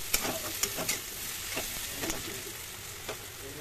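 Onion and semolina frying in a pan, a steady sizzle running throughout with a few brief stirring scrapes and clicks, close and moderately loud, no talking.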